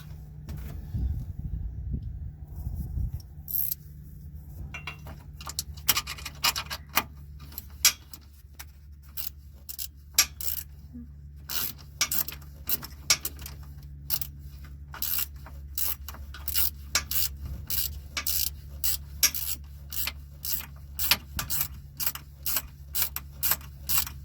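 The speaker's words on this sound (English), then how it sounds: "Get my ratchet." Hand ratchet tightening a bolt on the front impact air bag sensor of a 2008 Chevrolet Suburban, giving rapid close clicking bursts over a steady low hum, with short pauses between strokes and no talking.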